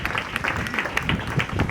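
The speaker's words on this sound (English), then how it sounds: "Let's clap for the organizers." Audience applause for the organizers at an outdoor Laudato Si Green Festival, a steady wash of many hands clapping at moderate level, fairly close and continuous for a couple of seconds with no talk over it.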